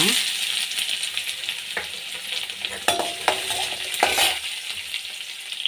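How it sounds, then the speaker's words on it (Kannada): Onions frying in a hot garlic tempering oil for coconut chitranna, the pan sizzling steadily while a spoon stirs, with several sharper scrapes and clinks standing out over the close, continuous frying hiss. "ಈಗ ಇದಕ್ಕೆ ಈರುಳ್ಳಿ ಹಾಕೋಣ"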